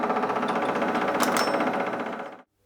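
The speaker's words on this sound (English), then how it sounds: "I had to change the drilling speed a couple of times just to get it right." A motorised drill grinds steadily into an Ariel motorcycle cylinder head, a dense buzzing whir with a brief bright squeal midway before it winds down and stops.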